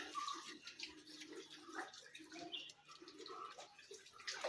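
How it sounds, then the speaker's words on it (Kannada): Spring water flows steadily at Teertharameshwara temple in Karnataka, a soft continuous trickle and splash that stays faint and even, with no talking. "ವರ್ಷದ 365 ದಿನಾನೂ ಇಲ್ಲಿ ನೀರು ಇದೇ ಥರ ಬರ್ತಾ ಇರುತ್ತೆ."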